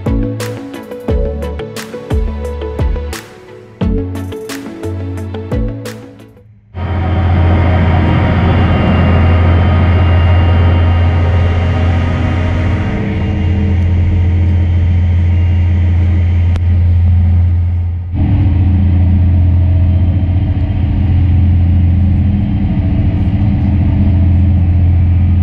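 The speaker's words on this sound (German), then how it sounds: "hier hat man den Zug jetzt gehört, der ungewöhnlich laut war. Der klang ganz anders als die bisherigen Stadler GTW," A Stadler GTW regional train running unusually loud, a heavy sustained engine drone with a strong low hum, close and constant after a few seconds of choppy rumbling at the start.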